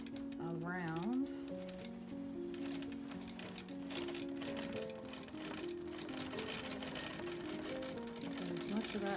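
A long-arm quilting machine stitches through a quilt while working a tricky, uneven spot, its motor humming and needle clattering steadily and close by, with speech running over much of it.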